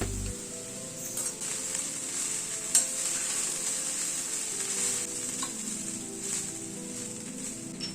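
Cooked rice being stir-fried in a pan with coriander stems for Schezwan fried rice, a steady close sizzle with continuous scraping and stirring, one sharper clink near the third second, no talking.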